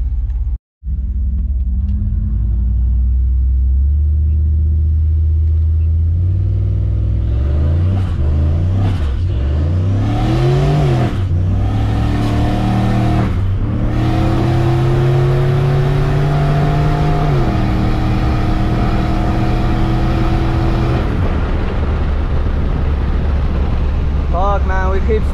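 A boosted truck with a new transmission revs loudly and close, its engine rumbling and then climbing in pitch through repeated rising surges before settling into a heavy sustained roar.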